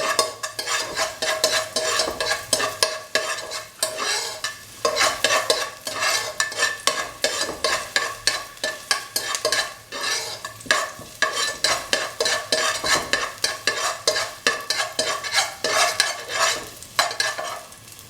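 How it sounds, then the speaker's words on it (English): Shallots sauté in ghee while a spoon stirs them with rapid, rhythmic scraping against the pan, all over a continuous close-up sizzle. "Now put in the shallots into the ghee and saute until golden brown"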